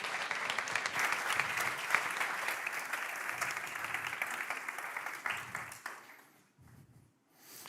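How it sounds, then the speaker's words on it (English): An audience at a tech meetup claps for the next speaker taking the stage, a steady moderate round of applause that fades out after about six seconds, leaving faint sparse claps. "a big applause for our next speaker"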